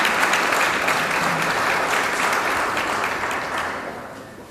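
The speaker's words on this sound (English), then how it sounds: "So give ourselves a round of applause because we can do it." A conference audience at SHAPE Africa 2014 in Abuja breaks into sustained, dense applause that stays steady and fills the room, tapering only slightly toward the end.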